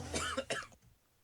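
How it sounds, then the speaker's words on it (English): A single short cough, or a burst of coughing, from a man laughing during a talk-radio reaction stream, loud and close in two quick pulses before falling quiet. "it was more of a cough than a laugh"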